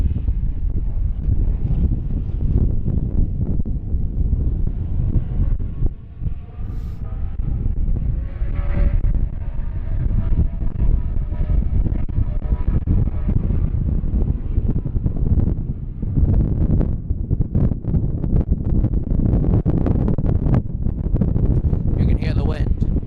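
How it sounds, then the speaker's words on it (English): Wind gusting across the open New Hampshire track during NASCAR Sprint Cup Series testing, a steady loud rushing roar that buffets the microphone throughout, with a commentator talking over it. "You can hear the wind."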